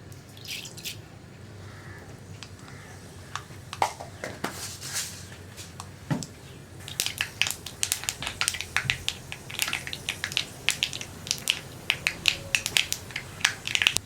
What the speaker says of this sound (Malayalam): കടുക് പൊട്ടി കഴിഞ്ഞിട്ടുണ്ട്.